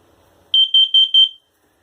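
A new fire alarm under test gives four loud, sharp electronic beeps in quick even succession, close to the microphone, then stops into silence.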